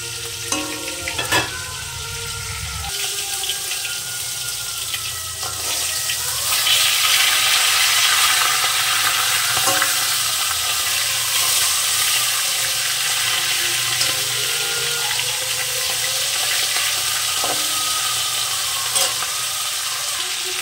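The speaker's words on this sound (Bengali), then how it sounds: "মাছের মাথাটাকে সুন্দর করে ভেজে নেব।" A fish head frying in hot oil with a little turmeric, a steady dense sizzle lasting throughout, punctuated by occasional scraping stirs.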